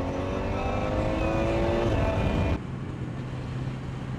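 A Yamaha FZ1 motorcycle engine revs hard at a drag-race launch on a wet street, a loud rising whine close by that cuts to a lower, steadier drone partway through.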